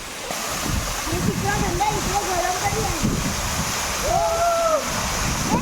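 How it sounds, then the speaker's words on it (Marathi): A steady, heavy rush of a waterfall roars continuously near Mandangad in Konkan while someone speaks over it. "हा वाहणारा धबधबा वर्षाच्या बारा महिने वाहतोय"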